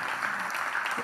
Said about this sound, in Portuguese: Salva de palmas pro Thiago.